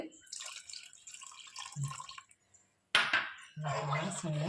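Thick coconut milk poured by the cupful into garlic porridge, giving a wet, splashing pour with drips and light clinks of a pot. After a brief pause a second gurgling pour follows, close and moderately quiet.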